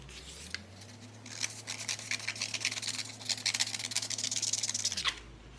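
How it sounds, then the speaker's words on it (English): Scissors slice along a drawn line in paper for a chameleon sculpture, a close, continuous rasping snip lasting a few seconds over a low background hum that cuts off at the end. "I'm gonna cut that line I just made."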